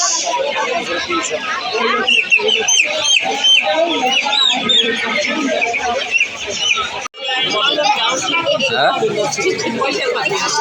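Tiger chickens cluck at a crowded raw-goods market where caged poultry is sold, their calls steady throughout and woven into dense crowd chatter and bargaining voices.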